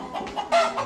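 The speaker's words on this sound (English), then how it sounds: "I brought two hens and a rooster." A hen gives a few short clucks in quick succession, close and clear, with no talking.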